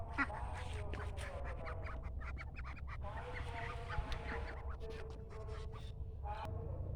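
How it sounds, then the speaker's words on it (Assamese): Domestic ducks quacking outdoors near a house, with repeated short, raspy quacks in irregular bursts, some closer and some farther, over a low background murmur. "আমাৰ হাঁহকেইটা দেখিছেনে, আছে দুটা বাহিৰত"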